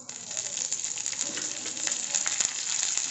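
Mustard seeds, dals, asafoetida and curry leaves frying in hot oil, a close steady bright sizzle with scattered crackles and pops, no voices.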